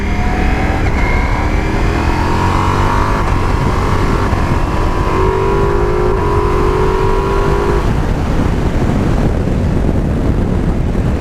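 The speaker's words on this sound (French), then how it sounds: "je suis à même pas 2000 tours, la moto repart" A loud Multistrada V4 S motorcycle engine in sport mode climbs steadily in pitch as it accelerates from under 2000 rpm, droning continuously with heavy wind roar throughout.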